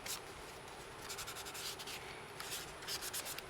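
Hand sanding of sticky Lexus IS300 plastic dash trim, a close, faint, dry rubbing with short repeated back-and-forth strokes.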